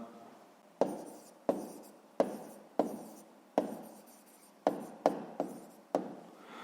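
A pen or pencil writes a math answer by hand on paper, a series of about ten short scratchy strokes, each starting sharply and fading, close and fairly quiet.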